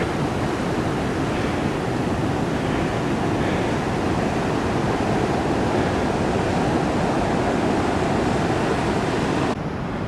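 Ocean waves and surf roll steadily at Meyers Creek Beach on the Oregon coast, a loud, continuous wash of breaking water with some wind, heard alone without any voices.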